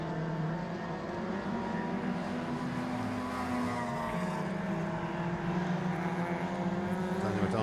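Race cars, among them a Toyota Celica, circuit racing: a steady, loud engine drone with shifting pitch as the cars run close together, continuous throughout.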